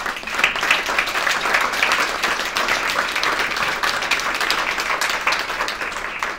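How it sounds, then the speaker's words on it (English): A crowd at a Columbus community celebration applauds steadily, with dense, even clapping that holds for several seconds before tapering slightly. "Applaud yourself."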